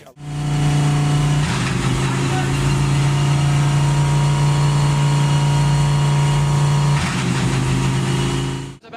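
GT race cars at the Kyalami 9 Hour start roar together in a loud, sustained engine drone. The field builds and surges as a commentator talks over the noise, which falls back briefly near the end.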